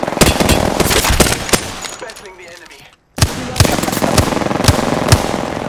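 Rapid bursts of gunfire in Apex Legends, loud sharp shots in quick runs that stop briefly for a quiet gap before resuming, with a voice mixed in.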